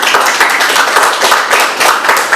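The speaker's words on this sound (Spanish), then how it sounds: "Un fuerte aplauso para él." An audience at a lecture gives a loud, dense round of applause for an engineer being introduced as the first speaker, many hands clapping continuously and close by without pause.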